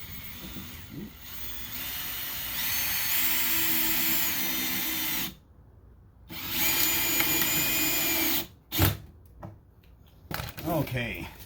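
Power drill driving screws into pallet wood while building a large planter box, two whirring bursts with a rising pitch, close and loud, separated by short pauses.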